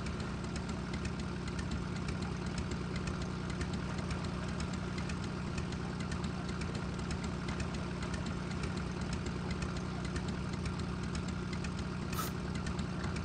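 A steady engine idle rumbles in the video game Amerzone, a continuous low drone with faint knocking texture that runs unchanged throughout, heard alone with no talk.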